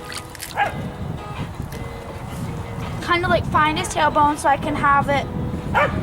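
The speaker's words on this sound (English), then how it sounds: "The dogs are playing in the background." Dogs yip, whimper and bark playfully in a burst of high-pitched calls under a person's steady talking nearby while a horse's tail is washed.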